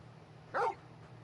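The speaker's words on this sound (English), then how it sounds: "Bark." A single short dog bark from a video game character, a large dog, brief and fairly close over a low steady background hum.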